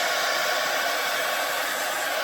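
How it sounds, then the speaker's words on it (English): A hair dryer blows steadily on a Dutch pour of house paint and dollar-store acrylics, a continuous close, loud whoosh with no pauses and no voices. "add the blow dryer to that section"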